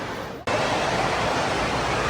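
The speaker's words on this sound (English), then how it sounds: "They got the lazy river here." Constant rushing water wash at an indoor water park's lazy river, a broad steady roar filling the space after an abrupt start, loud and unbroken with no voices.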